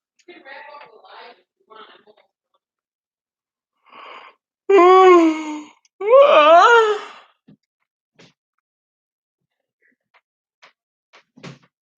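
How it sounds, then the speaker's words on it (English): A drawn-out yawn with moaning, groaning vocal noises in two rising and falling bursts, close by, between scattered faint clicks and quiet breathy sounds. "Sorry, when I yawn, I make weird noises."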